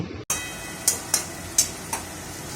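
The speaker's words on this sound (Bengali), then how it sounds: "এবার এটাকে ভালো করে নাড়াচাড়া করে কষিয়ে নিয়ে নাবিয়ে নেব" Chili keema being stirred and fried in a pan, a steady low sizzle broken by four or five brief scraping stirs at uneven intervals, close and fairly quiet with no talk.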